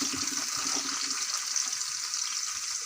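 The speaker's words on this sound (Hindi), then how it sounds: "इसे अच्छे से फ्राई कर लेते हैं।" Chopped onions sizzle and fry in hot oil in a pot, a steady, dense hiss running the whole time with faint stirring clicks underneath and no talking.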